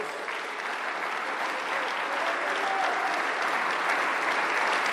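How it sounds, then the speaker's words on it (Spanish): A church congregation applauds during a worship service, producing a dense, steady wall of clapping that holds for several seconds without a break. "Dele un fuerte aplauso a nuestro Dios."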